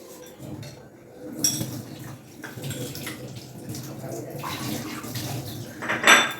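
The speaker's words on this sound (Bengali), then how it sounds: "ড্রয়িং স্যারের কাপ প্লেটটা আমি এখানেই ধুয়ে দিই" A cup and saucer washed by hand in running water, with splashing from the tap, clinks of crockery and a sharper clatter near the end, close and steady throughout.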